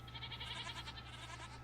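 Goats on a Minecraft farm bleat faintly in a quick wavering series over a steady low hum, with no talk.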